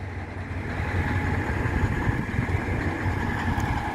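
An old truck with a large muffler idles nearby with a steady, deep, throbbing rumble that holds at an even level throughout.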